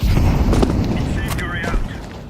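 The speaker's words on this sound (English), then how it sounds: "Grenade out!" A grenade explosion in the battle-royale game PUBG booms loudly at the start, then its rumble tails off over about two seconds while faint game sounds flicker overhead.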